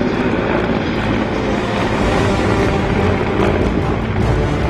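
Two helicopters carry an air-landing assault team in a China-India army counter-terrorism drill in snowy mountains, giving a steady, loud, droning roar of rotors and engines that stays constant throughout.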